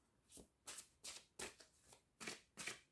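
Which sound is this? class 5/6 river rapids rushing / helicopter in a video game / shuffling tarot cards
shuffling tarot cards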